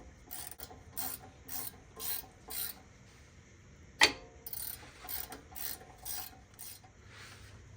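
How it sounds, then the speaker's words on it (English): Ratcheting 15 mm wrench tightening a rear axle bracket bolt on an SN95 Mustang GT, heard as short repeated clicking bursts at close range with one sharper knock partway through, no talk. "you're going to take your 15 millimeter and you're going to tighten that back down"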